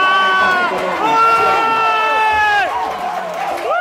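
Supporters at a West Lampung regional election candidates' debate cheer and shout loudly in a dense, continuous crowd roar, with raised voices and whoops carrying on throughout.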